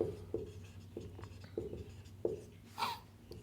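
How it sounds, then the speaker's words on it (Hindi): Pen or chalk writing out percentage sums for a competitive exam lesson, a series of short scratchy strokes in an irregular rhythm, close and faint, with no talking. "चलिए मैं लिखता हूं"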